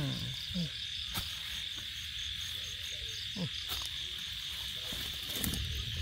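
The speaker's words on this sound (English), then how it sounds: "This insect, you hear the cricket crying." Crickets chirp steadily in a mountain setting, a continuous high trill running through the whole stretch, joined by scattered low croaks and soft rustles nearby.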